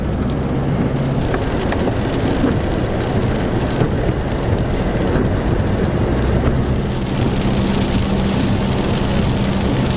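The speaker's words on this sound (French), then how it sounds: "Et ben, il pleut toujours autant." Heavy rain pours steadily in a dense, constant hiss, with a low rumble underneath, no voices.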